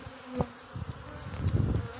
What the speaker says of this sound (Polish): na ostatniej ramce tak jak widać pszczoły się oblatują